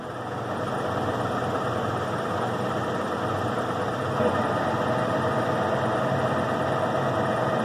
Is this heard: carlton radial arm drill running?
yes